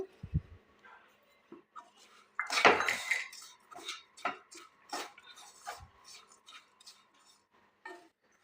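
A metal utensil scrapes and taps repeatedly against a pan, stirring dry desiccated coconut powder in an irregular rhythm, close and fairly loud, with no talking.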